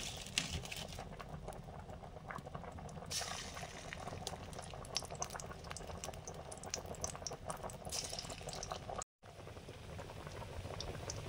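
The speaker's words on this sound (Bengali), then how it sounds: "শাপলার বড়াগুলো ভাজা শুরু করেছি।" Water lily fritters fry in hot oil with a continuous, dense bubbling sizzle that holds steady throughout, broken only by one brief dropout.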